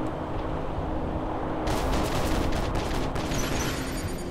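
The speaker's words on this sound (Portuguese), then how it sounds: "Vai ter uma chuvarada de tiros" A dense barrage of gunfire rattles on without pause in the War Robots robot combat game, a loud, continuous roar of overlapping shots that swells and grows harsher partway through, with no talk over it.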